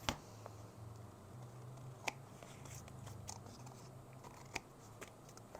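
Scissors trim paper for a holiday card, a few faint crisp snips spaced apart over a quiet steady low hum.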